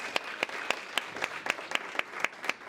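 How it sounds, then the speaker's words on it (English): A single person claps at an awards event, about ten sharp, evenly spaced claps, close and fairly quiet over a low background. "Let's give her a round of applause."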